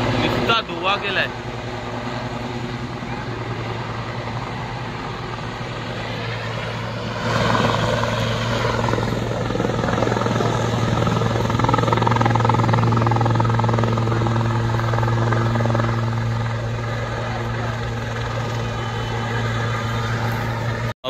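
A helicopter comes in to land as a crowd runs to watch. The dense rotor roar holds steady, then swells louder partway through and stays heavy, with voices audible underneath.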